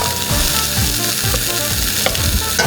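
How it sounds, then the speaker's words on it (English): Salmon frying in a hot pan, a loud continuous sizzle and crackle up close with occasional spatula clinks, no voices. "now the salmon is in. So we're gonna go ahead and let that cook"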